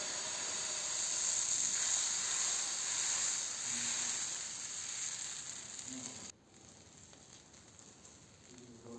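Dosa batter sizzling on a hot tawa, a steady bright hiss that holds for about six seconds, then drops abruptly to a quieter, fainter crackle.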